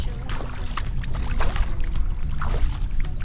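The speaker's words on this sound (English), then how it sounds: "That was the only boat that came by." A boat motor rumbles low and steady nearby, with water splashing and lapping over it; no voices.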